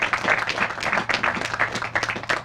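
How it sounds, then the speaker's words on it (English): An audience claps at a public works groundbreaking ceremony, quick ragged applause with distinct bursts of hand claps, moderately loud and close, with no talk over it. "So please give our DPW a round of applause."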